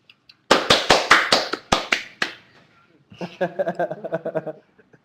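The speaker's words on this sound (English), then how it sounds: "We do a golf clap." A host gives a golf clap during a live online design chat show, with about ten sharp, close, evenly spaced claps and then a short burst of laughter and talk.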